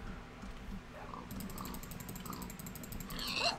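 Tamed dogs in the Minecraft video game, giving a short high whimper or yip that sits over continuous game noise and low rumbling, with no speech heard.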